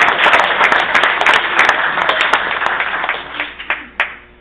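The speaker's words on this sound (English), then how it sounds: "You can applaud." Wedding guests at a best man speech break into applause, a loud crowd of clapping hands that thins out into a few scattered, separate claps near the end.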